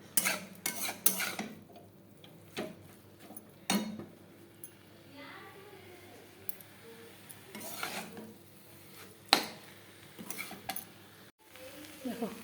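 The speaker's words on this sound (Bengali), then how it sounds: "এখন সব মিশিয়ে দিব সবজিগুলোর সাথে।" Chow mein with mixed winter vegetables is tossed in a pan, with sharp scraping and clinking of a utensil against the pan in irregular bursts over a faint sizzle, fairly quiet and close.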